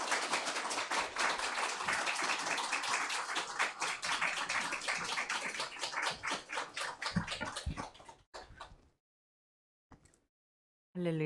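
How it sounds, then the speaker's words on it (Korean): A church congregation applauding to welcome a missionary, a full crowd clapping steadily for several seconds before tapering off into silence. "우리 선교사님 나오실 때 우리 박수로 한번 맞이했으면 좋겠습니다"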